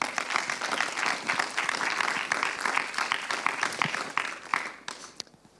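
Audience applause for a design studio at the re:connecting Europe 2017 conference: a dense, steady round of clapping from a crowd, fairly close, fading out near the end.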